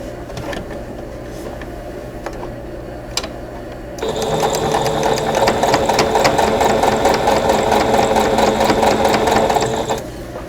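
A sewing machine sews rows of a quilt block together. Light handling sounds come first, then the machine runs loud and steady for about six seconds before stopping.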